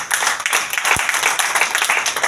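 Church congregation applauding during a sermon, a dense, steady crackle of many hands clapping close by for a couple of seconds, with one sharper low thump partway through.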